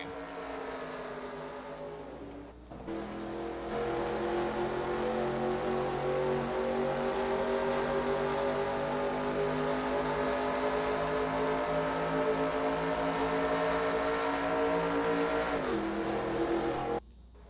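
Race cars in the video game NASCAR Racing 2003 roar past after the green flag, a loud sustained engine drone with layered revving tones that swell in at the start and cut off near the end, no talking.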